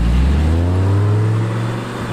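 An Audi R8 accelerates hard from close by, a loud, deep engine roar rising in pitch, then easing off slightly toward the end.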